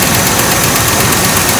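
A 1966 Chevrolet Caprice engine idles with only water in the radiator and no coolant, a loud, close and steady running drone with a faint knocking vibration and no talking.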